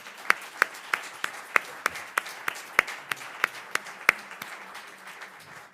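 Sparse applause from an audience at a book presentation for a biography, sharp individual claps spaced evenly over a steady murmur of room noise, moderately near.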